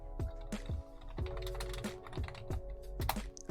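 Quiet typing on a computer keyboard, a steady run of soft key clicks with a few sharper taps, heard alone in a calm room.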